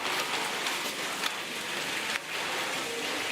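Steady rain falls, a continuous hissing patter on surfaces with a couple of slightly louder drips, no voices.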